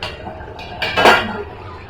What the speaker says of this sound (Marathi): आता आपण चमचा मारून बघूया